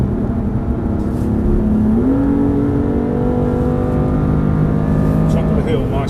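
A BMW on the Thruxton track pulls hard with a steady engine drone that climbs in pitch as it speeds up, and a voice talks over it for much of the time.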